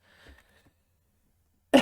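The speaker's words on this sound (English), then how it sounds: "I need to get a hotkey to mute myself when I cough" A single loud, sharp cough bursts out close to the microphone from a sick streamer, following a stretch of faint murmuring and near silence.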